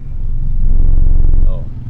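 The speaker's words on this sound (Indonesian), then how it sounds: "Tapi ini knalpotnya aktif dua-duanya." Toyota Vios engine idling through an active dual exhaust, a steady low smooth rumble close by that swells slightly and then eases off, with no talk over it.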